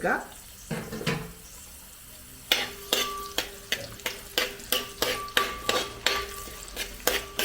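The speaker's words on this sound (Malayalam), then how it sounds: "എണ്ണ ചൂടായിട്ടിനകത്തേക്ക് നമ്മൾ അരിഞ്ഞ് വെച്ചിരുന്ന ഇരുന്നൂറ്റമ്പത് ഗ്രാം ചുവന്നുള്ളി അങ്ങോട്ട് ഇട്ട് കൊടുക്കാം" Chopped red shallots go into hot oil for a chicken curry, and a spatula scrapes and taps the pan in a steady rhythm over a low background sizzle, close and moderately loud.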